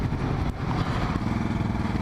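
Exhaust of a motorcycle fitted with a Volkswagen Beetle muffler, a steady loud close rumble with a throbbing, uneven beat while riding uphill toward a mountain pass.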